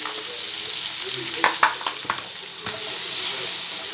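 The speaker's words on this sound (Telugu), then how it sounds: "స్టవ్ మీడియంలో పెట్టుకొని వేయించుకోండి" Ridge gourd frying in a pan with salt and garlic paste over medium heat gives a steady, close hiss. Several sharp scrapes and clicks of stirring sit on top of it.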